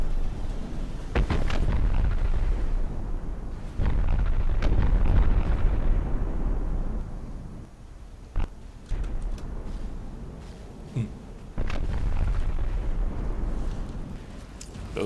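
Missile explosions in a video game, a dense run of booming blasts and sharp cracks rolling on over a heavy, continuous rumble, some bursts close and punchy, others softer.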